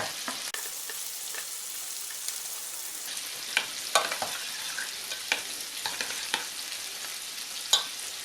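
Cream and chopped dill cooking in a salmon and chanterelle sauce in a pan: a steady soft sizzle with occasional sharper stirring scrapes and clicks, no voices.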